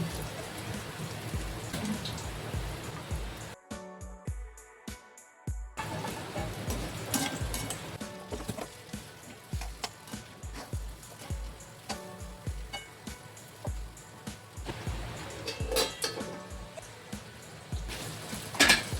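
Stuffed brinjals go into an onion-garlic masala in a pan, giving a continuous crackling sizzle with scattered clinks and drips, broken by a brief near-silent gap.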